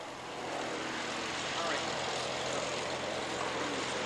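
Steady droning engine of a World War I triplane flying at an airshow, a continuous broadband roar at even loudness with faint voices beneath.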